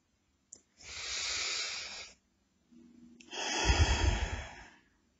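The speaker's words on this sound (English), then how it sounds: "take 5 deep abdominal breaths" Two slow, deep abdominal breaths are taken close up: a long airy inhale, a pause, then a longer, heavier breath with a rougher, rushing exhale.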